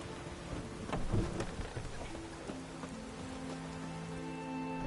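Rain and thunder in the video game The Witcher 3: steady, dense rainfall patters on surfaces throughout, and a rolling rumble of thunder swells about a second in, then settles back under the rain.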